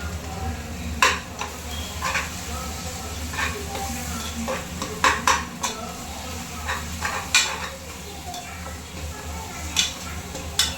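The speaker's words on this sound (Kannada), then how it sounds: "ಮೊಸರು ಹಾಕಿ ಚೆನ್ನಾಗಿ ಫ್ರೈ ಮಾಡಿ" Masala with thick yogurt stir-fries in a pan, a soft continuous sizzle with scattered spoon scrapes and clinks over a low background hum, with faint voices now and then.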